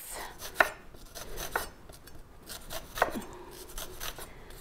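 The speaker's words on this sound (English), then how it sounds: "So when you're chopping it, your onions don't go f***ing everywhere." A knife chops through an onion with its root left on, giving a couple of sharp, isolated board taps over quiet kitchen background, with no talking.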